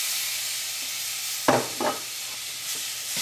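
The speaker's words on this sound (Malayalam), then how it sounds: "ഇതെല്ലാം കൂടിയിട്ട് നന്നായിട്ടൊന്ന് മിക്സ് ചെയ്തിട്ട് നമുക്ക് ഏറ്റവും ആദ്യം നമുക്ക് തക്കാളി ഒന്ന് വേവിക്കാം" Masala powder is mixed into tomatoes in a pan for a Thrissur-style chicken and ash gourd curry. A low, soft frying hiss runs throughout, with a few brief scrapes and knocks from stirring.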